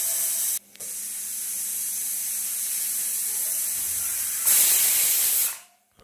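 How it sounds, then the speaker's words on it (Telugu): Steam hissing out of a pressure cooker after cooking millet (jonna rava) upma, a steady loud rushing spray that dips once briefly, swells louder near the end, then cuts off abruptly. "ఆవిరంతా పోయే వరకు వెయిట్ చేసి మూత తీద్దాము."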